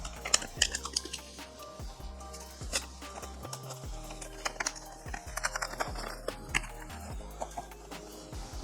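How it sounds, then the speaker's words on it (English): Paper packaging is torn open on a diecast car magazine with a 1:43 scale Holden Monaro, giving close irregular rips, crinkles and rustles with a few sharper tears and brief speech. "So it does come with some paper. Let's rip it open together."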